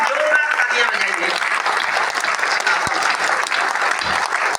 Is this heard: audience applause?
yes